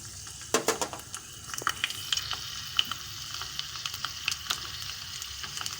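Fenugreek seeds, garlic and carom seeds fry in oil over a low flame, giving a soft, steady sizzle with scattered crackles and a few louder pops as ingredients drop in.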